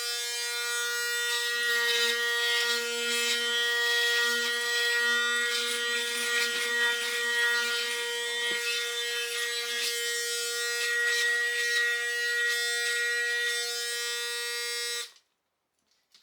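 A Panasonic ARC6 electric shaver running against facial hair: a close, steady high-pitched buzz with a faint rasping texture as it moves over stubble, holding continuously before switching off abruptly near the end.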